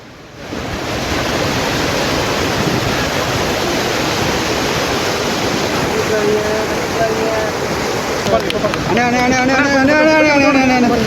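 Water released for irrigation from Mettur Dam, about 12,000 cubic feet per second, gushing out as a steady, loud, broad rushing roar that holds throughout, with a voice talking over it toward the end.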